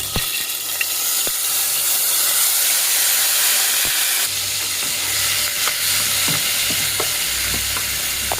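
Paste of onion, green chili and tomato hits hot oil in a pan, giving a loud, steady frying sizzle and hiss with a few stirring scrapes, heavier after the midpoint, with no talking.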